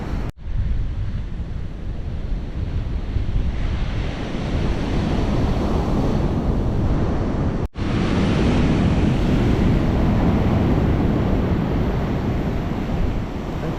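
Sea surf rolls steadily onto the sandy shore in front of the Baracoa stadium in Cuba, a loud, continuous wash of breaking waves mixed with wind buffeting the microphone, with no voices.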